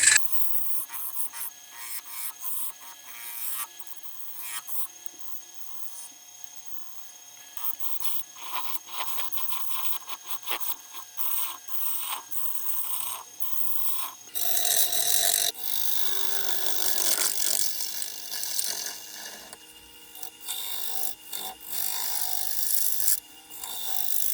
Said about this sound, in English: So hollowing out is quite a long and boring process.